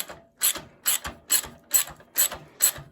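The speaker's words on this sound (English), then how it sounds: "Take the ratchet, and we're going to put this thing home." A ratchet with a 17 mm socket tightens the rear shock on a Honda CL350 motorcycle during restoration, giving seven evenly spaced, crisp ratcheting strokes, close by and fairly soft, with no voices.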